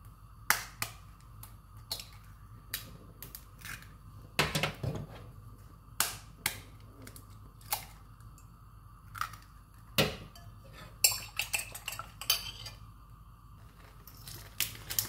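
Eggs being beaten for tortang talong (Filipino eggplant omelette), heard as a series of sharp, irregular clicks and taps of a utensil against a bowl, fairly close, with short rapid bursts between sparser strikes and no talking.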